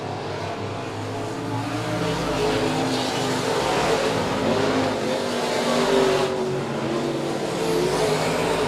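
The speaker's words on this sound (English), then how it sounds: "John Sheets, very prevalent lead as he makes his way down the backstretch." Race cars roar continuously down the backstretch of a speedway during a feature race, a dense, loud wash of engines rising slightly as the pack passes, with no talk.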